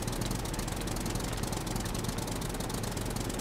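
Tractor engine in the survival game SCUM runs at a steady, rough, knocking drone with dense low rumble, continuous and fairly close throughout, with no talk over it.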